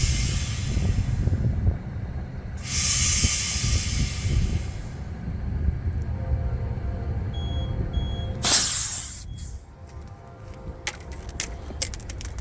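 Compressed air hissing in bursts while a Ford's front tire is filled, loud and close, with broadband rushes and a sharp blast near the end, mixed with faint clanks.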